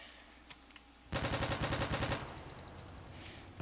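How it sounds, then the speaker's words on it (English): A Mini Uzi in a Minecraft guns mod fires one rapid, loud full-auto burst lasting about a second, then stops, leaving a faint lingering tail. "Next is the Mini Uzi. It's very high rate of fire."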